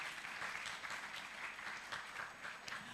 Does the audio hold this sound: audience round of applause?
yes